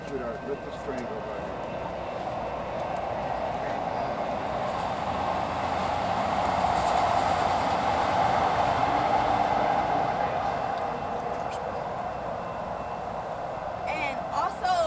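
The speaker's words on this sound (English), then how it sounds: "Let this train go by." A train rumbles past nearby for the whole stretch, a steady broad roar swelling toward the middle and easing off slowly, heard behind a quiet outdoor setting.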